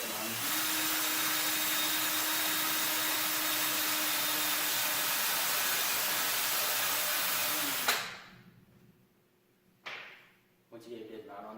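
Electric drill spinning a compound-loaded buffing wheel against aluminum, a steady loud broadband whir lasting about eight seconds before cutting off, followed by two brief bursts.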